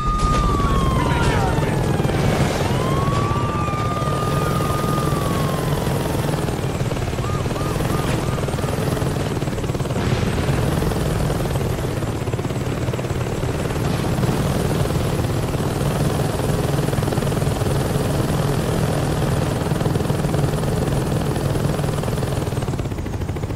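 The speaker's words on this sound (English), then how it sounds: "You take a helicopter and blow those things up" Helicopter in the game Saints Row 2, a loud continuous rotor and engine drone held throughout, with whistling tones sweeping across it and no voices.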